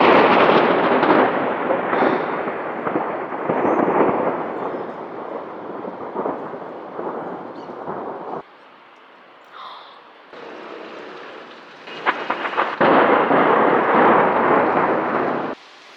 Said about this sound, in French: Là t'entends la foudre qui se broie en fait. Et il y a tout qui tremble.